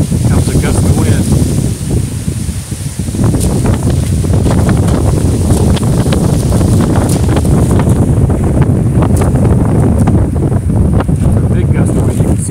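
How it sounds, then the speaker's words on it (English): A strong gust of wind blows through trees outdoors, a loud, constant roaring rush with heavy buffeting against the microphone and no letup. "It's a big gust of wind."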